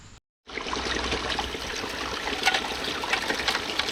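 Water flowing slowly into a dug hole while prospecting for gold over a clay layer outdoors in Michigan, a steady, close trickling and gurgling stream after a short silent gap at the start.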